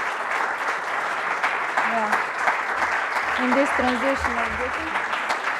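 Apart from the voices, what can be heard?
applause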